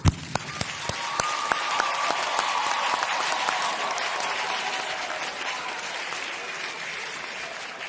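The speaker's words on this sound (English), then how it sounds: "Please join me in applauding them." Audience at a North Carolina Central University commencement ceremony applauding its honorees, a sustained roomful of clapping that starts with a few distinct claps and swells into a steady ovation.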